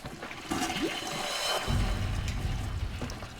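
A toilet flushes close by, a rushing surge of water that swells and then churns steadily as the bowl refills.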